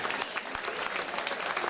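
A crowd applauds a Sardinian folk dance group at an evening performance, a short, dense burst of clapping heard steadily without talk.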